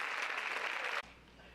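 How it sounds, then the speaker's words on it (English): A school awards-assembly audience claps for two senior athletes, a dense, even burst of applause that cuts off sharply after about a second, leaving quiet room noise. "I guess we can applaud them now"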